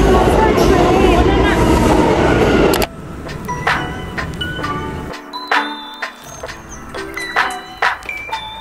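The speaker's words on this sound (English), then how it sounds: "That's our train!" A New York subway train arrives at a station: a loud rumbling roar gives way to screeching, squealing brakes with rising and falling tones and clanks as it slows, with a voice heard briefly.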